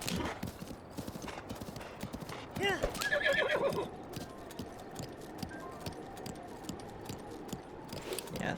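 A horse in Breath of the Wild clip-clops steadily at a trot, then lets out a loud whinny partway through, hooves continuing after; near and clear, with a person talking over parts of it.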